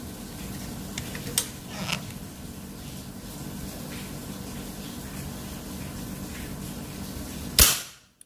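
A single sharp crack of a Predator folding air rifle shot near the end, after several seconds of quiet background hiss and faint rustling.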